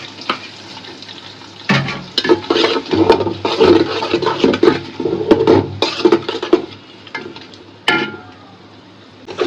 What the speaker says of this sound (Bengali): ভাজা ভাজা করে দিই, তারপরে মশলা ভিতরে চেপে দিই।